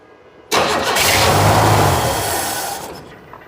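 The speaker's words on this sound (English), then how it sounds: "Liam, go ahead and give her a good cranking." A 1971 Chevrolet C10 shortbed with an inline six engine cranks loudly and steadily for about two and a half seconds without catching, then the starter winds down and stops.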